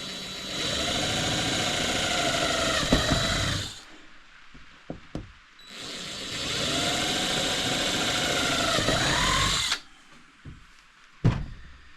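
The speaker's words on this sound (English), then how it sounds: "I'm going to drill my holes." A power drill whirs in two long runs of a few seconds each, winding up and down, drilling holes in a small boat to mount cleats, separated by quiet with a few light knocks.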